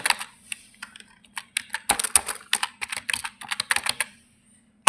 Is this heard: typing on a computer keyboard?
yes